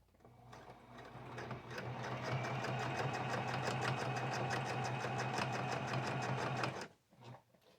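A sewing machine runs steadily, stitching stretched fabric from an old house coat into a shower wrap, with a fast mechanical whir and rapid needle ticking for about six seconds before stopping, then a brief shuffle of cloth.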